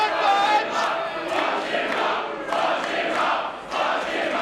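A wrestling crowd at a PWA Colosseum 2024 match chants in rhythmic, repeated bursts, loud and roomy, filling the space with a steady surge of massed voices.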